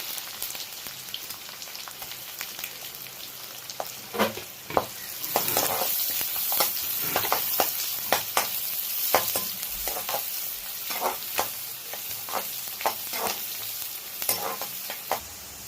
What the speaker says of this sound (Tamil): இப்போ வெங்காயம் நல்லா புரிஞ்சிருச்சு